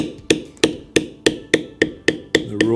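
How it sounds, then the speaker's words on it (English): Eight sharp mallet strikes on a leather carving tool, evenly spaced and close, each a crisp wooden knock with a short ring, while the dragon design in the leather is carved and beveled. "tap it with my mallet"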